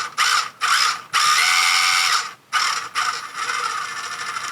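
A JJRC C8815 Willys Jeep 1/10 scale RC car runs its 280-size motor through a plastic drivetrain, giving a loud, close, whining gear buzz in repeated throttle bursts with short pauses, ending in a steadier run.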